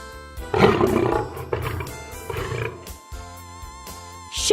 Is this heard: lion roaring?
yes